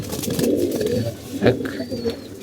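Pigeons in a loft give soft, low, repeated coos close by, with a few higher chirps and some background rustle.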